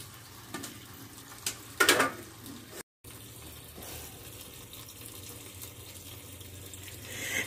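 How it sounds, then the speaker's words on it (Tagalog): Oyster mushrooms being washed under a running kitchen tap, a steady close trickle with a short splash, a brief dropout, then continued water flow. "So, ngayon, huhugasan na natin ang ating mushroom."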